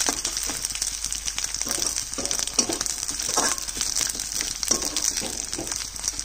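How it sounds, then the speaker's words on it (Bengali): Garlic and green chillies frying lightly in a pan for a Bengali bhadal dish, a steady close sizzle with faint stirring clinks running throughout. "রসুন আর কাঁচা লঙ্কাটা হালকা ভাজা হবে"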